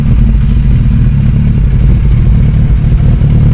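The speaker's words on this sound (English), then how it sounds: "This is a 2007 Suzuki GSXR 1300." A 2007 Suzuki GSXR 1300 Hayabusa with stock exhaust and a liquid-cooled 1,298 cc engine idles close by, a loud, steady, deep mechanical rumble with no revving and no talk.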